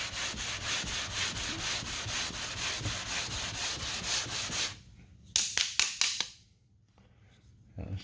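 Hand sanding of 2K primer along a car body line: steady back-and-forth rubbing strokes in a regular rhythm for several seconds, then a pause and a few short, sharper scrubs, close and fairly loud.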